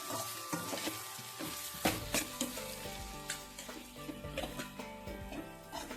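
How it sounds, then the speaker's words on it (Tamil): A spoon stirs rice and salt in a biryani pot with steady scraping and a few sharper knocks against the metal over a continuous sizzle, with a tonal background running throughout. "இந்த அரிசிக்கு ஏற்றால உப்பு போட்டுக்கோங்க. நல்லா கிளறி விட்டுக்கலாம்"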